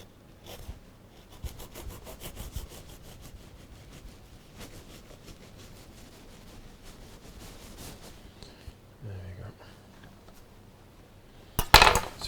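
A slightly firm knife trims the back of a carved handbag-shaped cake, giving a low, steady rubbing and sawing scrape close by, with a sharper clatter near the end.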